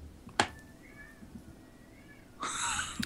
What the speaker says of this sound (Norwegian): Er det en katt utenfor, eller?